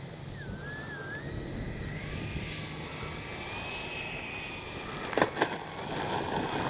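Freewing 90mm Zeus RC jet flying, a faint, steady distant whine of the ducted fan over windy outdoor background noise, with a couple of brief louder bumps near the end.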